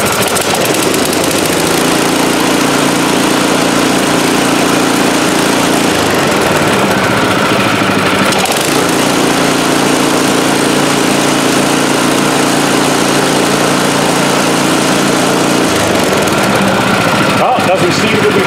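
A snow blower engine runs steadily after a lean-running surging fix, a loud, even drone throughout with no obvious rise and fall in speed.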